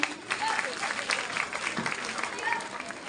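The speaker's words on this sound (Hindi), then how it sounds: "जोरदार तालियों से सबका स्वागत करें।" An audience at a school annual function and prize distribution claps to welcome students onto the stage, a short burst of steady applause with voices over it.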